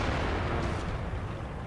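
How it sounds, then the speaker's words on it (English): A tank shell ricochets off armor in World of Tanks during a match on the Ruinberg map, with an AMX M4 1945 in play: a loud, dense burst of booming game noise that stays heavy throughout the short moment. "Ricochet!"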